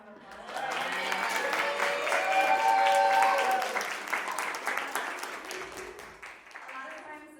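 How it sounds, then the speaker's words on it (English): Audience applause at a fusion salsa panel event in NYC, a steady wash of clapping swelling and then tapering off, with a voice starting to speak as it fades. "So can we actually give a little round of applause?"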